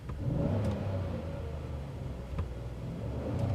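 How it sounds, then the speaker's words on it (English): A 2016 GMC Sierra Denali pickup's engine hums in a low, steady rumble with slight revving swells, heard from close by and without talk. "let's go for some engine rev"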